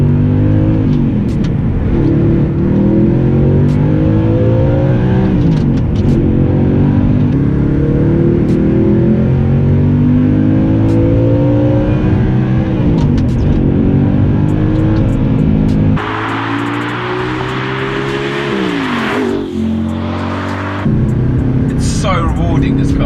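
An Audi R8 V8 with a Milltek exhaust revs loudly and close, rising and falling through repeated throttle blips with deep, rasping exhaust notes that swell sharply near the end.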